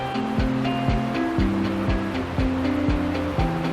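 Steady roar of a full mountain river swollen with rain and snowmelt, rushing past giant trees beside a trail, broad and continuous with repeated low thuds pulsing beneath the water noise.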